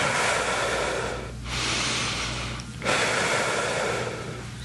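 Loud, long breaths in and out during a yoga session, a steady airy rush that eases off twice, close to the microphone.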